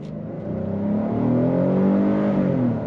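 A 2026 Hyundai Palisade SEL with a 3.5 liter V6 accelerates in sport mode, its engine note climbing steadily and smoothly as heard from inside the cabin, with no talk over it.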